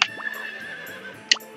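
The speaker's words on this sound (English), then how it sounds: "I'm calling the horse so that I can brush it." Two short synthesized horse neighs from the video game Harvest Moon 64, one at the start and another near the end, over a steady game music tone, no talking.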